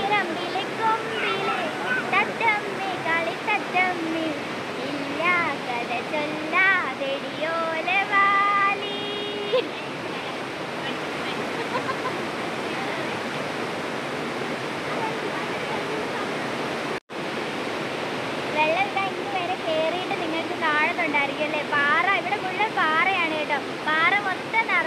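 A small stream swollen with floodwater rushes in a steady, loud broadband roar throughout, with voices talking over the flow.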